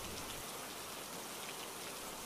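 Steady storm rain pours down without a break, a dense close hiss of drops striking surfaces that holds even throughout, with no voices.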